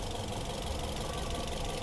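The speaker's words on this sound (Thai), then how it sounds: "เครื่องยนต์เดินนิ่งๆ" A 2013 Toyota Vios 1.5J idles smoothly under the open hood, a quiet, steady low hum with faint regular ticking and no voices.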